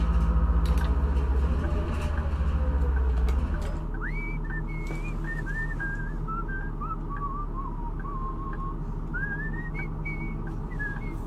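Melodic human-style whistling from a character in the Bus Simulator 16 driving game, a wandering tune of rising and falling notes over a steady engine rumble, with a loud low rumble at the start that drops away.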